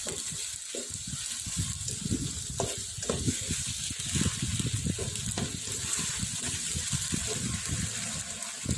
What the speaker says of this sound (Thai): ผัดไปเรื่อยๆนะคะ